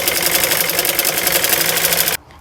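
A sewing machine running continuously as it stitches a seam on a trouser pocket, a fast, even mechanical whir with rapid needle strokes, stopping abruptly near the end and leaving near silence.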